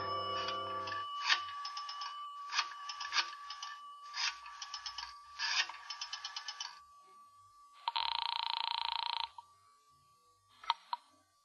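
In a 1950 radio drama, a telephone heard at a phone booth rings in repeated bursts at moderate volume, followed by a longer buzzing tone and a few final short clicks, with no voices.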